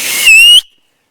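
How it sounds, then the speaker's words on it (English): An emergency whistle from a survival kit gives one short, loud, shrill blast lasting about a third of a second, then cuts off abruptly into silence. "so here I have an emergency whistle"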